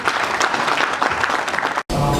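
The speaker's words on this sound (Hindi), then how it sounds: "जरा ताली बनती है" Loud, dense applause fills a hall at the Karamveer Achievement Awards 2021 ceremony, then breaks off abruptly and switches to a different, boomier room sound.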